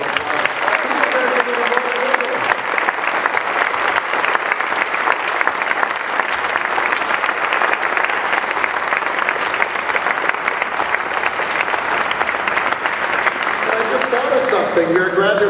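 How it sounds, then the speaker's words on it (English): A large audience applauds in a sustained, dense round of clapping for the Chancellor at a university building kick-off event, steady and loud throughout with faint voices mixed in. "Please give the Chancellor a round of applause."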